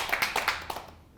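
A small audience at a health lecture claps briefly, a handful of sharp hand claps in the first second that quickly fade out.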